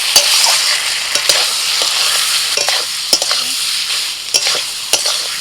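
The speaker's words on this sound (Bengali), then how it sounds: "গ্রেট করা পনির দিয়ে দিচ্ছি এবার পটলের সাথে ভালো করে কষিয়ে নেব" Pointed gourd and grated paneer being stirred and sautéed in a pan with spices, a constant loud sizzle broken by repeated sharp scrapes and clacks of a spatula against the pan, no voices.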